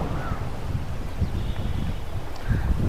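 Steady wind rumbles and buffets the microphone the whole time at Velliyankallu, with a faint bird call and soft rustling in the background.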